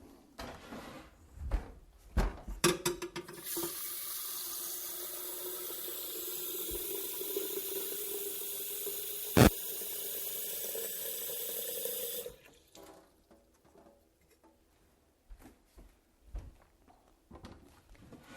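Water pours steadily into a vintage 1970s Vittoria Express espresso machine from Columbia Calandra & Co, a close, continuous stream lasting about nine seconds, framed by quiet handling clunks before and after.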